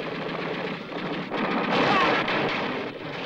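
Machine gun fire in a tornado battle scene from a film, a dense continuous rattle of bursts layered with rumbling blasts and chaotic battle noise, loud and close throughout.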